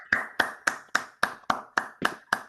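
Rhythmic clapping at a university conference, nine sharp, evenly spaced claps close by, like a small group clapping in unison rather than a broad crowd.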